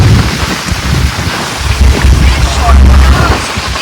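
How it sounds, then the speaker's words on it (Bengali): Heavy rain pours down at sea near Crab Island, a loud dense continuous roar with wind buffeting the microphone throughout. "বিশাল জোরে বৃষ্টি হচ্ছে এখন।"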